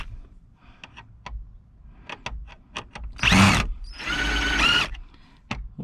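A cordless power drill bores screw holes during an electronics install in an OBS Chevy Blazer, two loud whirring bursts amid scattered clicks and handling knocks, close up and without speech.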